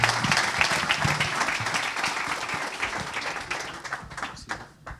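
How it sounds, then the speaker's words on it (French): Audience at a French awards ceremony clapping loudly for a prize winner, dense steady applause that thins out toward the end. "Merci, on peut l'applaudir."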